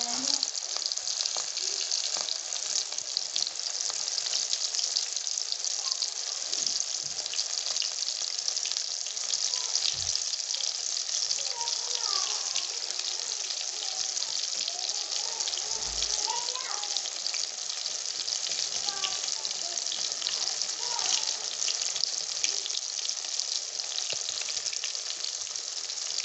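Fish pakora pieces sizzle and crackle steadily in hot oil, a constant bright frying hiss with occasional soft clunks as pieces are added.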